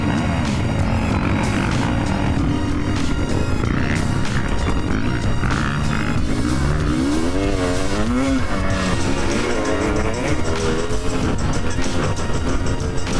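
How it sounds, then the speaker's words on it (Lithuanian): Enduro motorcycles roar around the Sūduva enduro track, engines revving loudly and continuously with rising and falling pitch as the riders throttle through the course, close and dominant throughout. "antrą ratą važiuojam Sūduvos enduro trasoj"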